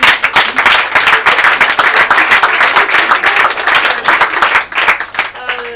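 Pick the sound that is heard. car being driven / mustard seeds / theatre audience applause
theatre audience applause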